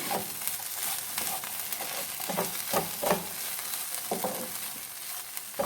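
Pizza puff stuffing being stirred in a hot pan, with a steady sizzle of frying under repeated soft scraping strokes of a spoon, close and moderately loud, no talking.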